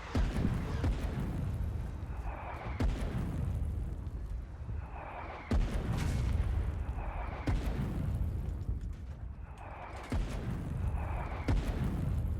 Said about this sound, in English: our position was under heavy Colonial artillery fire